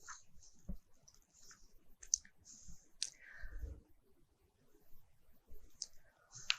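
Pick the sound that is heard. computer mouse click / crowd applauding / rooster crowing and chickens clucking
computer mouse click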